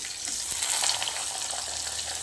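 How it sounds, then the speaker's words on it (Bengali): Cut potato pieces sizzling in hot oil, flavoured with white cumin, for a Bengali niramish mochar ghonto, a steady close crackle and hiss that runs evenly through the clip with no talking. "এবার আমি এই তেলটার মধ্যে কেটে রাখা আলুগুলো ছেড়ে দিলাম"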